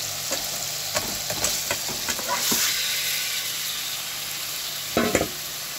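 Chicken pieces going into hot oil and spice paste, sizzling steadily with several sharp stirring scrapes and clatters of a spoon against the pan, louder knocks near the end.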